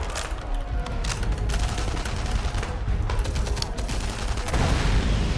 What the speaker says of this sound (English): You're not supposed to be able to shoot me through there.